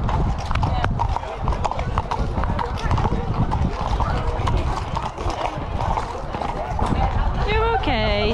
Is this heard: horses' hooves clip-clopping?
yes